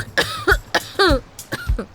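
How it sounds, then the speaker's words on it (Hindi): A woman coughs in a rapid series of short, raspy hacks and throat-clearing bursts, close and fairly loud, with no other voices. "ये अचानक तुम्हारे गले में क्या हो गया? खांस क्यों रही हो?"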